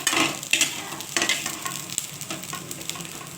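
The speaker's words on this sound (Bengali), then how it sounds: "আলুগুলো তুলে নিচ্ছি" Fried potatoes scooped out of a pan into a bowl, close spatula scrapes and clinks over a continuous oil sizzle, no talk.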